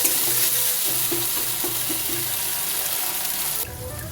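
A spice paste of ginger, green chillies, peppercorns, black mustard and tomato frying in a pan, a steady hissing sizzle with rhythmic scraping of a spoon stirring, ending with a splash of water poured in.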